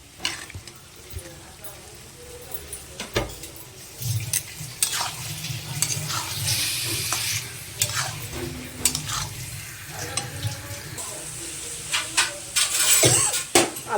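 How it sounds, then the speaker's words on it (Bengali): Boiled potatoes being stirred and fried in a red chilli and turmeric spice masala for an egg curry, with a soft sizzle under repeated spoon scrapes and clinks against the pot. "আলু দিয়ে কষানো হয়ে গেছে"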